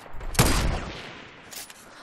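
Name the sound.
gunshot in video game Fortnite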